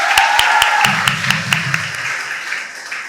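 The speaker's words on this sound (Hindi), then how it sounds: "एक बार जोरदार तालियां होनी चाहिए।" Hands clap in a quick, steady rhythm at a children's tree-planting workshop, each clap sharp and close, with a voice calling out briefly in the middle.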